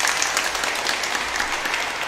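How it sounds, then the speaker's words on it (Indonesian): A church congregation at a Sunday Easter-season Mass applauds a group of Caritas sisters, a dense, even wash of many hands clapping at once, loud and continuous without pause. "Kita beri tepuk tangan untuk mereka."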